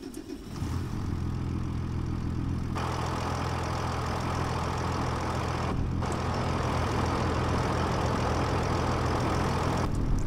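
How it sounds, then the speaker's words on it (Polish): A six-cylinder tractor engine in Farming Simulator 25 idles with a steady, deep rumble, running continuously and close by with no talk over it. "Sześć cylindrów słychać."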